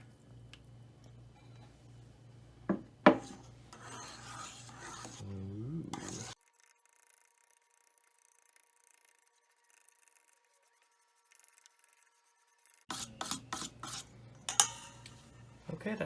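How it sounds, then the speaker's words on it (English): Key lime pie filling with lime juice is mixed in a bowl, giving soft scraping and rubbing strokes with a few sharp clinks, a long near-silent pause, then another burst of stirring. "We're gonna mix this until just combined."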